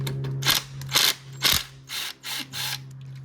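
A hand ratchet loosening the two 8mm oil filter cover bolts on a Kawasaki KLX 110 dirt bike, six close rasping clicking strokes in a steady rhythm, the first three louder and the last three softer, over a faint hum.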